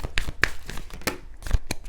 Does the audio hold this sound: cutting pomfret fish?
no